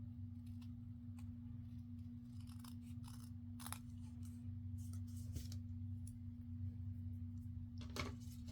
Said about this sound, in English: I'll just trim a little tiny bit off of there.